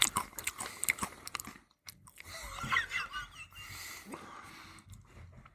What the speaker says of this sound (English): if we're recording it, you're masticating